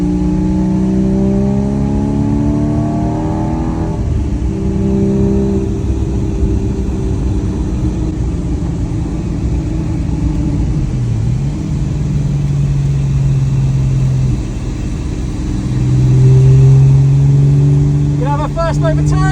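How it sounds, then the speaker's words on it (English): A rebuilt, formerly crash-damaged Porsche Cayman GT4 pulls out of the pit lane onto a track, its engine droning loud and close as it revs up through the gears, with speech over it. "I'm just coming out of the pit lane, first time in the GT4, first time road testing it."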